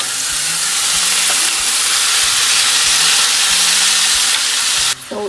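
Tomatoes added to a pan of hot oil sizzle loudly and continuously, a dense, close hiss of frying that holds steady before a brief knock near the end.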